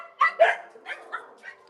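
Several dogs yip and bark in a busy shelter puppy room, giving about five short, sharp barks in quick succession at moderate, close range, with no voices over them.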